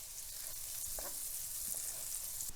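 Chopped scallions frying in grease in a hot pan, a steady, fairly quiet sizzle with a few soft stirring knocks and scrapes, no talk.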